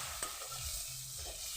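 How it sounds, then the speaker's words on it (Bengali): Spice paste for a Bengali tangra fish curry being stirred with a little water in a pan, giving a soft steady scraping and a faint low sizzle, close and alone without talk. "জলটা দিয়ে আর একটু ভালো করে নেড়ে ফেলে নেব।"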